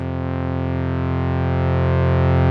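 A sustained, buzzy Novation Peak synthesizer drone with gritty overdrive, steady and loud, slowly swelling in level.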